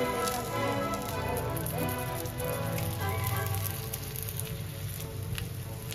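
Coriander thalipeeth, a Maharashtrian flatbread, roasts on a hot pan with a steady, close sizzle and soft crackle that holds evenly throughout, with no talking.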